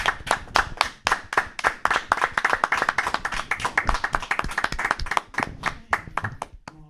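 A small group claps their hands in applause, sharp and close, with rapid uneven slaps that thin out and stop near the end.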